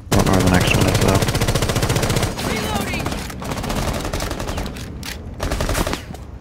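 Rapid automatic gunfire in the shooter game Rainbow Six Siege, loud bursts of shots rattling off in quick succession, then tailing into scattered fire with players talking over it.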